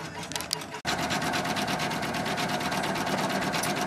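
An embroidery sewing machine stitches a sign, a steady rapid mechanical whir with a fast needle rhythm that runs continuously after a brief hitch, close and even in loudness.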